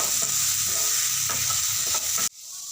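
A spoon scrapes and stirs potol and potato with cumin powder and vegetable masala in a frying pan, a close, steady sizzle with rhythmic scraping that cuts off abruptly near the end.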